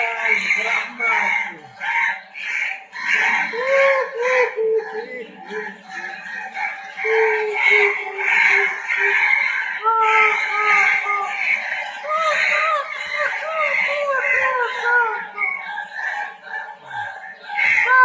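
A crow-themed ghost ringtone plays loud, repeated harsh bird calls in close succession, crowing-like cries that cycle continuously without talk.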